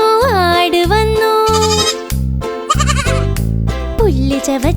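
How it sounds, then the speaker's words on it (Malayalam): A goat bleats repeatedly in a cheerful Malayalam children's song, the wavering calls standing out over a bouncy backing beat and singing. "ആട് വന്നു ആട് വന്നു"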